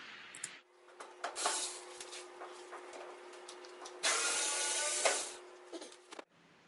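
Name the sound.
unscrewing screws from the back of an LG dryer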